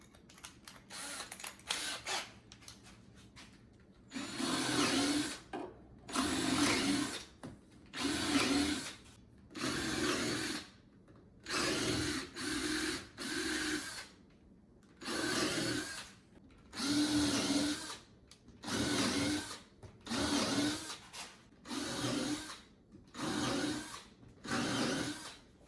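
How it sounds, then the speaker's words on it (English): A power drill countersinks screws into a wooden outdoor patio chair, running in a steady series of about a dozen short, even whirring bursts with brief pauses between, close and moderately loud. "I'll go around, countersink all those."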